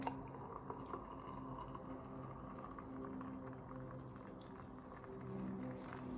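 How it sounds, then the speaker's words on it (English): Boiling water poured from a kettle into a cup to make mushroom coffee, a quiet continuous liquid fill with gurgling and a low hum, steady and faint throughout without talk. "go to the hot water, the boiling water. I'm going to pour that in there."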